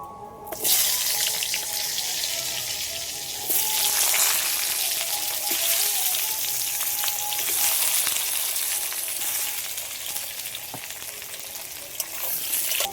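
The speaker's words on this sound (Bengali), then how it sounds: "আলুগুলো আগে একটু হালকা করে ভেজে নেব।" Potato pieces lightly fry in hot oil, giving a continuous bright, crackling sizzle close up that stays fairly even with small pops and stirring clinks.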